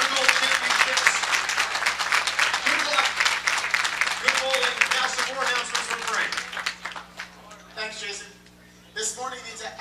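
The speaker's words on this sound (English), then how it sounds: "One more big round of applause for all of our competitors here at the 2012 World Junior Gold Championships" Spectators at the 2012 World Junior Gold bowling championships clap loudly in a dense burst that thins out and fades, followed by an announcer's voice over the arena public address.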